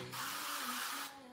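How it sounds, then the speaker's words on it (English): Avocado oil is sprayed from a spray can in a home kitchen: one steady hiss about a second long, close and clear, with no talking. "It's a spray of avocado oil, and I will just use this to spray it a little bit around"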